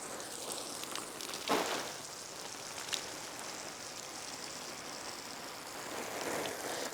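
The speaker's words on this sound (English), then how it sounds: "Look at this, hardcore downpour." Steady hard rain drumming on a tent, a dense continuous patter with a couple of louder drops standing out, no voices.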